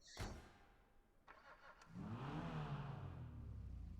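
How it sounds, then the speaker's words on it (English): An Annis Remus in GTA 5 gives a short crank, then its engine catches and revs up hard to a steady, loud idle rumble close by. "Startup's a little aggressive, but you know, it's pretty nice"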